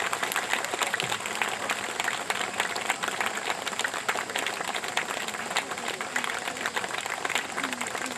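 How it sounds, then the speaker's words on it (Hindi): A crowd at a political rally in Bahraich, Uttar Pradesh, applauds steadily to welcome women to the stage, with dense, continuous clapping and a voice heard over it. "खूब जोरदार ताली बजा के इन लोगों का स्वागत करिए"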